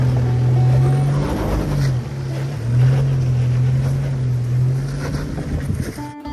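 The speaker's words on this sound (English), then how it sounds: "So yeah, we just went over the waterfall." A 4WD vehicle crawls across a waterfall on a cliff-side track. Its engine holds a steady, loud drone throughout, with rushing water and wind noise behind it.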